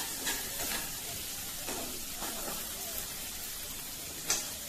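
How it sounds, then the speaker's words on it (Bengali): A mushroom and peas curry sizzles in a pan as spices and red chili are stirred in, with a steady frying hiss and a few soft scraping strokes of a spoon, close and fairly even. "এক চামচ লাল মরিচ দিয়ে ভালো করে নাড়াচাড়া করে ঢেকে রাখবো।"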